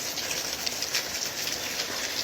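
Rain falls hard outdoors, a dense, even hiss of drops that holds steady throughout without a break.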